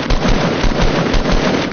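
Gunfire in the Fortnite video game, a loud, close rapid series of crackling shots firing in quick succession for under two seconds with no voices.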